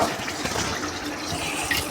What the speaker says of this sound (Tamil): நீங்கள் நார்மல் டேப் வாட்டர்லே இப்படி வாஷ் பண்ணிக்கலாம்.